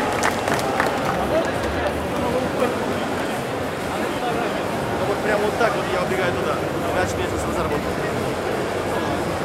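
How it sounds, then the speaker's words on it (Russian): Crowd at a Just Dance 2018 stage show at Igromir 2017 claps and cheers in a steady, dense wash of applause that fills the whole stretch, with a voice talking under it. "Еще раз, да, низкий поклон и аплодисменты."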